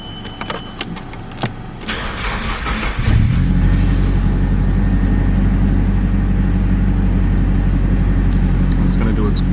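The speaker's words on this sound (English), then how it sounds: "This is an actual cold start, so you'll be able to hear it from the very beginning." A 1995 Nissan 180SX Type X with an SR20DET engine cold-starts: a brief starter crank around three seconds in, then a loud, steady, rumbling high idle that continues to the end.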